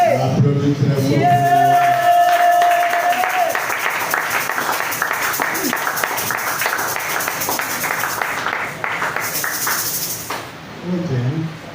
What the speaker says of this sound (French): Applaudis très fort